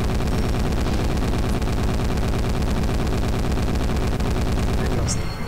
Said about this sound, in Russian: Это также пулемет, видите, он уже стреляет у нас намного по-другому.